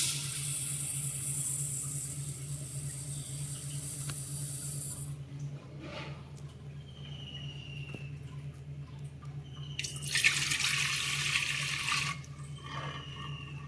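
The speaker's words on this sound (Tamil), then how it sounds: "அரிசியை நல்லா கழுவிக்கிறணும்." Water runs steadily from a tap in two hissing bursts separated by a quieter stretch while millet rice is washed, with faint handling sounds and a low hum underneath.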